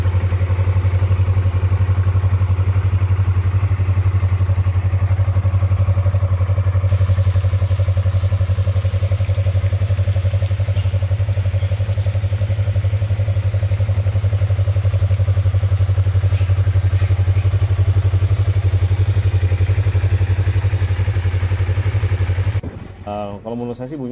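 A Yamaha MT-25 motorcycle engine with stock exhaust idles steadily with a deep, smooth, low thrum, loud and close, running unchanged for most of the clip before cutting off near the end.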